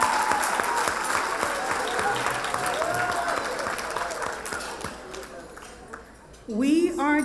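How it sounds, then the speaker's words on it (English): A round of applause from the audience at a history makers gala, dense sustained clapping that gradually thins and fades, followed by a speaker's voice returning at the end. "So please give them all and yourselves a round of applause."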